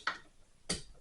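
Two sharp clicks from a torque wrench tightening bolts on a water heater, spaced about half a second apart, close and fairly faint.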